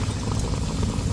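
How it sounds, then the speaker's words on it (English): Beef and Guinness stew bubbles steadily in a camp oven, a close, continuous simmering gurgle with no voices over it. "I want that to come up bubbling again pretty quick. It's bubbling again already."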